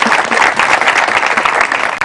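Loud, close studio audience applause for trophy-winning girls on a televised debate program, dense rapid clapping that stays full and even from start to finish.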